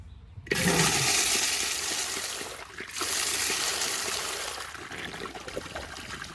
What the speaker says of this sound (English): I'm gonna give y'all one last flush.